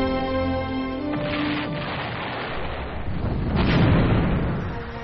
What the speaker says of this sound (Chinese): 阿布勒尔巡洋舰的隆隆炮声